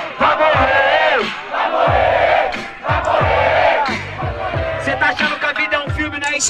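A rap battle audience screams and cheers loudly in continuous, surging waves, with shouted voices rising and falling over a thumping beat.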